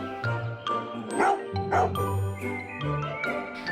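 A cartoon dog barks a few times in a children's fairytale story, loud and close, over a light music bed with narration and voices woven around it.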